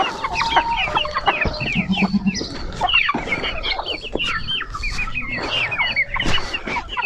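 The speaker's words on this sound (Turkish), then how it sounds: "gördüğüm kadarıyla 1, 2, 3, 4 tane tavuk var" Young pullets cluck and chatter busily in a flock, a dense run of overlapping clucks and short calls heard up close, with no one talking.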